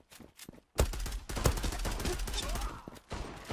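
Rapid bursts of M902 gunfire in a video game, with a brief shot or two before a dense, sustained volley of loud, close automatic fire that breaks off near the end and resumes.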